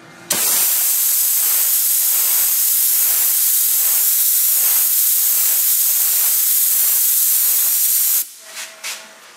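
A spray gun hisses loudly and continuously for about eight seconds, laying primer over small bare spots in preparation for painting, before cutting off into a few faint clicks.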